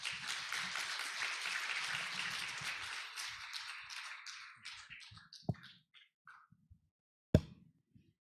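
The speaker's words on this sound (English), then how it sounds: "Please welcome him with a big round of applause." Audience applause welcoming the court president at the 2022 8th International Patent Court Conference opening ceremony, a dense round of clapping that thins out and fades, leaving a few scattered late claps and one sharp final clap.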